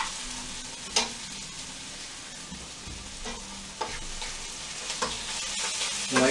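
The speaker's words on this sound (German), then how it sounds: "lassen wir schön brutzeln" Onions sizzle steadily in a hot pan, with a few scraping stirs and clinks of a utensil breaking through the frying hiss.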